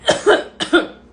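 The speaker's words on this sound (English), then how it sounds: "sometimes you cough" Two quick coughs, close and fairly loud, separated by a short pause.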